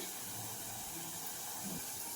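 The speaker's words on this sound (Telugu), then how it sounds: "ఇప్పుడేమో కొన్ని వాటర్ వేస్తున్నా" Water poured into a hot pan of egg tomato curry gives a quiet, steady hissing steam with no talking.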